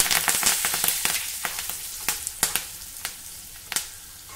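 A tempering of asafoetida and curry leaves sizzles in hot oil after the gas is turned off, a steady frying hiss broken by sharp pops and crackles about every half second.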